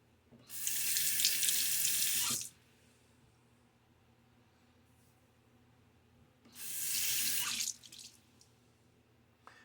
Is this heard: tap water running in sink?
yes